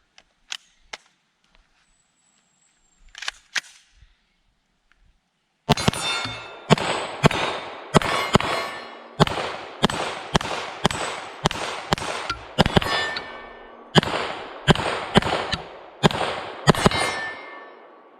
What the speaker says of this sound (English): let's take this bad boy outside and ring a little steel